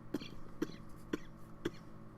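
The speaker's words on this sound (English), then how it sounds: "you're coughing up a storm" A person coughing four times in a row, short evenly spaced coughs heard up close with no talk over them.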